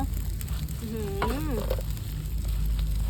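Fish sizzles and crackles steadily in hot oil in a pan, a constant dense frying hiss throughout, with a brief voice-like tonal sweep in the middle.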